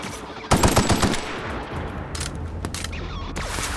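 Enemy gunfire in The Outer Worlds, a sudden loud burst of rapid shots followed by scattered sharper reports and further volleys over a low background hum.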